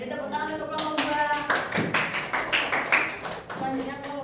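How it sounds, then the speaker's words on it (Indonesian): A small classroom group claps for a student team, scattered irregular claps starting after a spoken voice and continuing close and fairly loud, with voices mixed in. "Beri tepuk tangan untuk kelompok 2"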